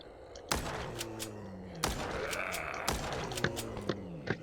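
Video game gunfire aimed at zombies: several sharp shots in a loose rhythm, each cracking out with a ringing tail and bright clinks between, loud and close with no talk.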